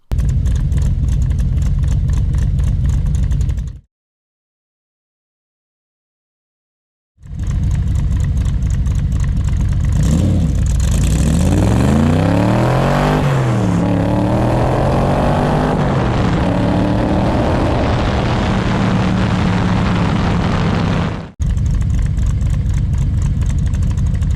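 A Factory Five Cobra's engine revs hard and climbs in pitch through several gear changes during a 0–60 mph run, loud and close, after a brief dropout of silence.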